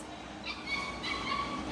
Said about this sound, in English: Oh, we got more cocker puppies.